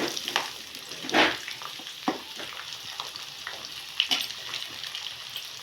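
Chana dal, peanuts and onions fry in oil for poha, a moderate sizzle broken by several sharp bursts and spoon scrapes at irregular intervals, close by and without speech.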